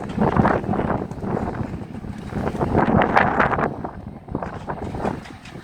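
Gusting wind buffets the microphone in uneven, roaring surges that rise and fall over several seconds, loud and close with no talking.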